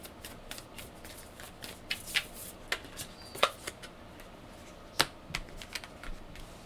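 Oracle and tarot cards handled and shuffled at a reading table, a soft steady rustle with scattered sharper card snaps and flicks, close and fairly quiet, no talking.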